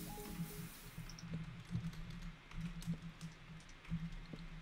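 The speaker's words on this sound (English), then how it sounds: "my typing is horrible, but I cannot see my keyboard at the moment" Quiet computer keyboard typing, a steady run of soft irregular key clicks heard close with a low hum in the background.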